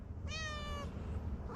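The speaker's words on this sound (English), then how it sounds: "this cat" A cat meows near and clearly, one drawn-out meow followed by the start of a second one at the end, over a low steady background hum.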